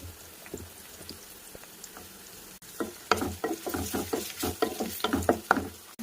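Onions and green chillies frying in hot oil with a spoon of ghee, a quiet start giving way to loud, close sizzling and repeated stirring scrapes in a busy rhythm, with no voices.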